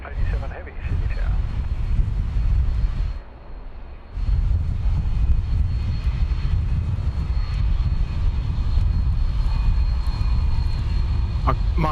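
Jet airliner landing at Sydney Airport, a loud, steady engine roar filling the scene that dips briefly before swelling again, with air traffic control radio voices talking over it.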